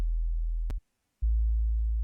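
A pure sub bass sine wave synth from a music track drones loud and steady, cuts out for about half a second, then resumes at a different pitch.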